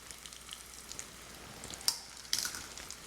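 Food fries in a pan under a splatter guard with a soft, steady sizzle, broken by a few sharp, louder pops.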